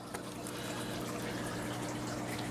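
Small native fish feeding aggressively in an aquarium tank splash at the surface, mixing into a continuous wash of trickling water and filter noise that runs steadily throughout at moderate loudness.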